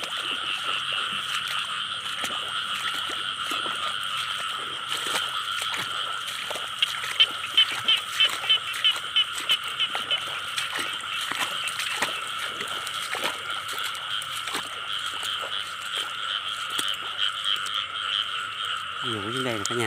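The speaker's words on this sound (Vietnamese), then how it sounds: "Ếch quá kêu cả nhà ơi." Frogs croak continuously in rainwater at night, a thick close chorus with a quick run of rhythmic pulsing calls partway through and faint splashing beneath.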